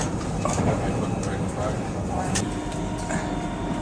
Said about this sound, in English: Riding the train, hopefully to get to the hotel.